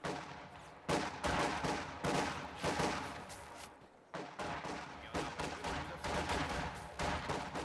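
Grenadiers in a strategy game trade fire with enemy squads at range, rapid overlapping rifle and machine-gun volleys crackling loudly almost without pause, a brief lull near four seconds before the shooting resumes.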